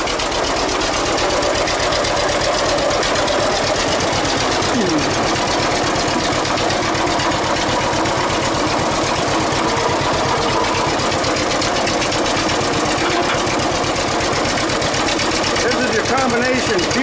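A John Deere LA farm tractor engine runs steadily nearby, its loud, rapid, even firing beat holding without a break through the whole stretch.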